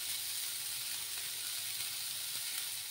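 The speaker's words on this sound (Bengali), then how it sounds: "2-3 মিনিটের মতো আমি ফুলকপিগুলোকে ভেজে নেব" Cauliflower pieces frying in a pan over low heat, giving a steady, dense sizzle with no breaks, close up and alone.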